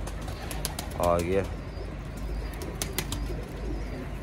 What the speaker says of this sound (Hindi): ये कबूतर है जो पकड़ा